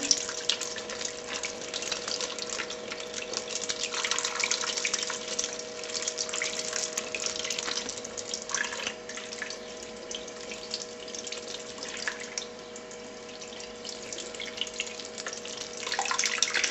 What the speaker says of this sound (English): And then you just have to patiently go like that, and you can see it, all the water seeping through underneath.